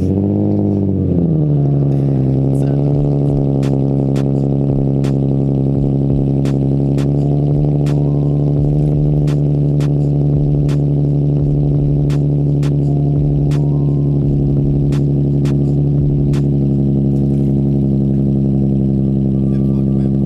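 A black Nissan 370Z with an aftermarket exhaust fires up from cold: a quick crank and catch, then a loud, steady, deep idle that stays high and even, with faint ticks on top.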